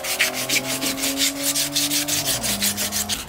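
Crumpled aluminum foil scrubs surface rust off an old-school Redline BMX bike, a steady close rasping rub in quick repeated strokes, with a faint tonal hum underneath.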